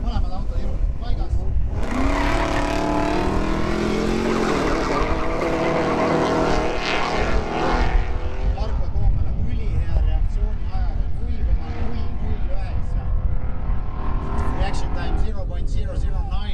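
A 1970 Dodge Challenger convertible with a 520 cid V8 and a turbocharged BMW 323Ci E46 2.8 with an HX50 turbo drag race over a quarter mile, engines roaring loudly and continuously with rising pitch sweeps, under a crowd and voices.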